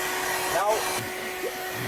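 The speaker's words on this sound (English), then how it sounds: "So I have a little 12 volt vacuum, and then I have these things here, just plug it in" A small 12 volt vacuum cleaner in a custom van whirs steadily and close, a constant broadband hum with a brief shift partway through, while a voice speaks faintly underneath.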